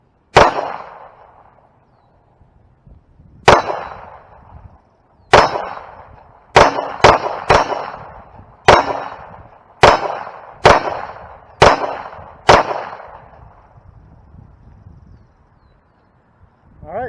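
Taurus G2C 9mm pistol firing Tula steel-case rounds from an extended magazine, about ten sharp, loud shots in an irregular rhythm with pauses between them and short ringing decays.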